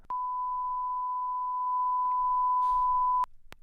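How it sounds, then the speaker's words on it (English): A single steady test-tone beep from TV color bars sounds loud and clean for about three seconds, then cuts off abruptly with a few faint clicks after. "And this is just TV color bars, TV static type beat, and it gave me this."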